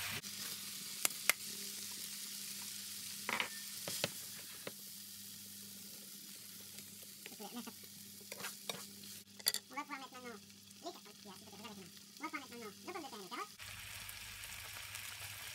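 Vegetable samosa filling sizzles in a saucepan as a utensil scrapes and stirs, with occasional clinks and taps, close and fairly quiet, some brief voice sounds mixed in.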